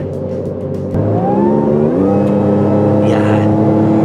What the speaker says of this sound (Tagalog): Ayun yung binabayaran mo sa supercharger guys. Yung whine ng supercharger ng makina.